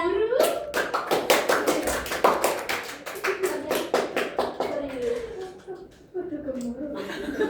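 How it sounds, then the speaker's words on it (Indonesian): Classroom audience claps for a student presenter, a brisk run of sharp hand claps over several seconds that thins out toward the end, mixed with chuckles and voices talking. "Beli tepuk tangan dulu buat Kak Wanda."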